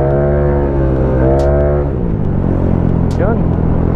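A Yamaha Mio 160cc scooter with a big valve head, touring set, revving loud and close, its engine note holding steady, then dropping and climbing again; a brief sharp squeal cuts through near the end.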